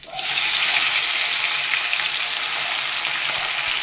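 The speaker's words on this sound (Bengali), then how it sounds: "এইভাবে আমি সব মাছগুলো ভেজে নিচ্ছি" Small mourola fish fry in hot oil, giving a loud, close and continuous sizzle that starts abruptly and holds steady throughout, with no talking.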